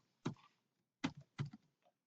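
Computer keyboard typing while editing a picture link on a web page: three short clusters of key taps, close and fairly quiet, separated by brief pauses.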